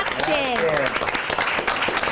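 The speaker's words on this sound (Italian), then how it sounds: "Un bel applauso a tutti voi" Applause from a live event audience runs continuously and fairly loud, with a voice and a tonal musical sweep layered over the clapping near the start.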